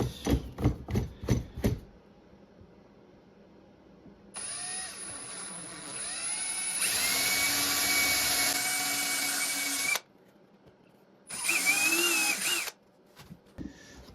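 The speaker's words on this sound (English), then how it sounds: "Now I've got to pre-drill those holes." A power drill whirs in several bursts of varying length, pre-drilling holes while building a lure turner, revving up and down after a few sharp knocks at the start.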